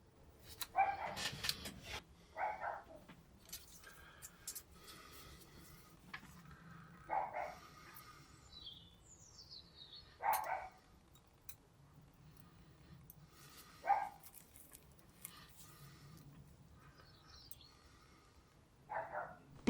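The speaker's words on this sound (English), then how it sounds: "Bloody dog, bloody barking at the bloody birds again." Dog barking at birds in regular bursts of a few barks every few seconds, moderately near, with occasional bird calls and caws in between.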